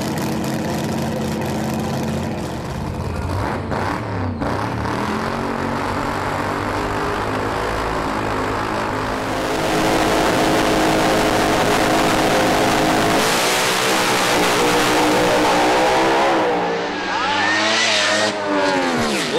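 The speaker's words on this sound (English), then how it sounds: "we do have the Lucas Oil funny car ready to make a pass here" An ANDRA Lucas Oil funny car at the Adelaide drag strip, heard as a loud, continuous roaring engine that builds in intensity and stays loud through most of the run, with a brief dip near the end.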